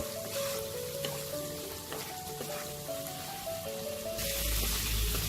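Spice paste with turmeric frying in oil in a pan for a prawn and pointed gourd curry, a steady close sizzle that holds through and swells louder near the end.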